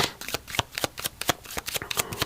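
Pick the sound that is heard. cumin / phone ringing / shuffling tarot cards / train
shuffling tarot cards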